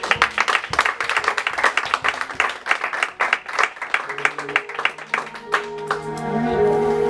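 A church congregation claps and cheers through an opening-night worship conference, dense irregular applause with crowd voices mixed in, while sustained musical tones rise underneath toward the end.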